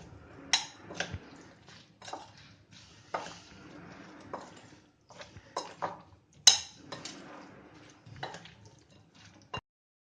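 A spoon mixes okra with flour and cornflour in a bowl, giving a quiet series of irregular clinks and soft wet scrapes, one knock standing out louder.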